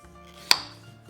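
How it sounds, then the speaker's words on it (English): A single sharp knife chop cutting the end off a plantain on a board, one crisp near impact over faint room tone, prepared for Cuban tostones. "So we start by cutting the ends"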